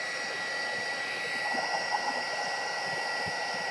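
A heat embossing gun blows hot air in a steady, close, constant whoosh for a few seconds at a craft table, with faint background sounds beneath it.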